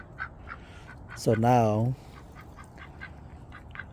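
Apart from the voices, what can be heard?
black Muscovy ducklings quacking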